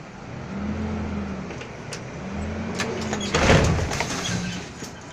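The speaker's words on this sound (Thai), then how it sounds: "ทีนี้ผมก็จะตบกระบะแล้ว" A tractor-drawn dump trailer tips its bed to unload soil, a low engine hum with rising hydraulic whine and a clattering, rushing spill of dirt near the middle, close and fairly loud.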